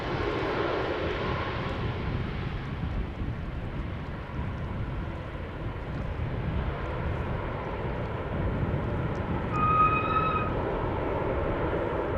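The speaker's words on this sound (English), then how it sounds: "Three airplanes on the glide slope." Three airliners descend on the glide slope into Schiphol Airport, including an Icelandair Boeing 737 Max 8 and an Embraer 190. A steady, distant jet engine roar holds throughout, with a brief tonal whine near the end.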